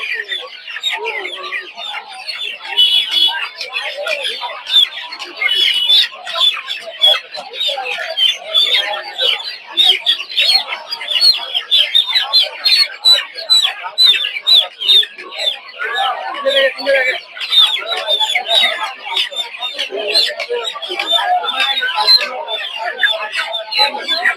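Tiger chickens at a poultry market in Putia, Shibpur, Narsingdi, a crowd of birds clucking and squawking continuously and close, with voices of people talking underneath.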